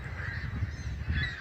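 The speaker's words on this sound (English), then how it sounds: "These are hundreds upon hundreds of seagulls" Hundreds of seagulls call at once along the shore of the Rivière des Prairies in Laval, a dense, continuous chorus of overlapping cries at moderate distance with no voices.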